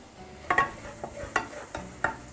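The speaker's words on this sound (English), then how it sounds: "So let it sizzle there for a little bit." Garlic sizzling in oil, a soft frying crackle broken by a few sharper clinks and scrapes of stirring.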